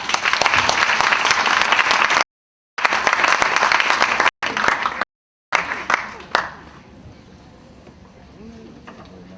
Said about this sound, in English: Another round of applause for Mina Israel.